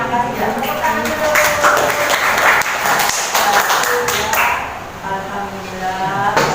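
Children clapping their hands in a classroom right after singing together, with a scattering of sharp claps over a busy room and voices talking underneath.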